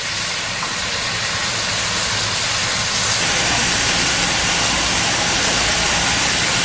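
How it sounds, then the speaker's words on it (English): A steam locomotive in China letting off a loud, broad steam hiss close by, steady and rising slightly in strength midway, with a low engine rumble beneath. "Locomotives everywhere here."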